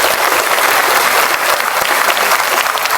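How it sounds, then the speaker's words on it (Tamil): Loud, dense applause from an audience at a college motivational talk, steady and continuous throughout with no speech over it. "இது கல்லூரிக்கான கைத்தட்டல்."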